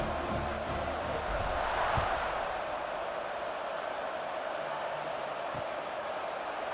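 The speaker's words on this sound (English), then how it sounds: "this crowd now ready to get behind them" A packed college football stadium crowd roars steadily before kickoff, a broad, continuous wash of cheering and noise that swells slightly, with no clear talk above it.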